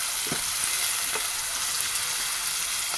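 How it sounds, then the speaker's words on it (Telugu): Onions with curry leaves fry in a pan of oil for a tomato curry, making a steady, bright sizzle with faint occasional crackles and stirring taps, close and continuous. "ఆనియన్ వేగాలండి."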